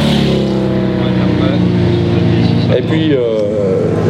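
A vintage motorcycle, probably a BMW, roars past at a classic bike race at St-Cergue, Switzerland, its loud steady engine drone shifting in pitch as it passes, with someone talking over it.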